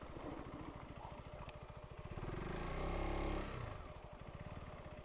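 A KTM 390 Adventure R motorcycle engine chugs along a rough trail, a close, steady low thrum that swells in a brief rev midway before settling back.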